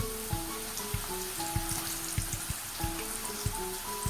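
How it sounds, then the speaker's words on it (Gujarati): Sweet potato chips fry in hot oil with a dense, steady crackling sizzle broken by sharp popping bursts, heard close up and with no voices. "ચિપ્સને પણ આપણે તળી લઈએ."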